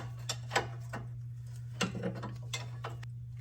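A ratchet wrench tightening a 7/8 nut, a series of quick close clicking bursts in irregular strokes over a steady low hum, no talking.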